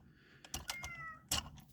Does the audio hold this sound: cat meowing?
yes